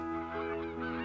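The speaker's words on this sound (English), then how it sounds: "There was the fluttering of wings and a strange but somehow familiar cry." Cartoon cries of wild geese flying overhead, a steady chorus of nasal honking calls layered together, fairly loud and continuous throughout the short stretch with no talking.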